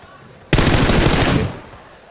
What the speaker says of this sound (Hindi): कुछ शॉट दिए गए बट कनेक्शंस वो आए नहीं है जी